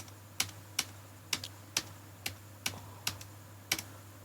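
Enter key pressed repeatedly on a computer keyboard during Tally ERP9 data entry, about nine crisp, close clicks spaced roughly half a second apart over a low steady hum, with no talking.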